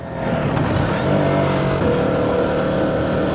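A KTM Duke 125 motorcycle engine revs steadily in first gear close to the rev limiter, holding a loud, sustained buzzing drone with no talk.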